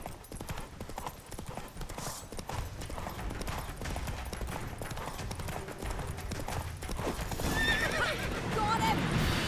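A horse gallops with rapid clip-clop hoofbeats in The Witcher 3, then gives a sharp neigh near the end, with battle speech and game sounds around it.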